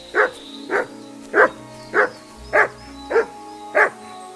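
Mutz, a dog in the video game Kingdom Come: Deliverance II, barks seven times at a steady, even pace, each bark loud and close, with no talk.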